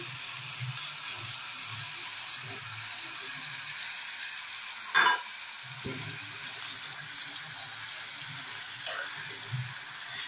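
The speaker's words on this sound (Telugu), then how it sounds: "ఇలా ఆయిల్ పైకి తేలేటప్పుడు మనం ముందుగా సిద్ధం చేసి పెట్టుకున్న పేస్ట్ని యాడ్ చేసుకోవాలి" Ginger-garlic paste frying in hot oil for a chicken curry gives a steady, soft sizzle that runs throughout, with one brief sharper burst and a few low clatters of utensils.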